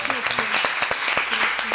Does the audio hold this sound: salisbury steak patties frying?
no